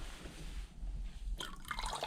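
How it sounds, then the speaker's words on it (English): Water drains and drips from a part of a Peugeot 205 GTi Mi16 project car, a soft trickle that gives way to a burst of splashing drips near the end. "Takes a little bit of a while for the water to drain away from it."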